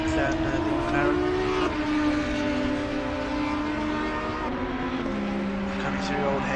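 GT3 race cars, including a McLaren, in the Assetto Corsa Competizione video game at Donington run flat out with loud, continuous engine whine that rises in pitch through the gears, while a commentator talks over it.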